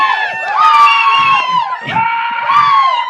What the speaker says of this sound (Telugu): గట్టిగా క్లాప్స్ కొట్టి అరవరేంది మన అనిల్కి